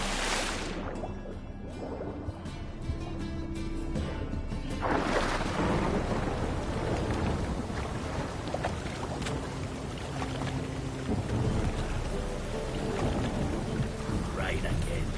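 Rain in a video game falls as a steady, dense hiss throughout, with low rumbling underneath.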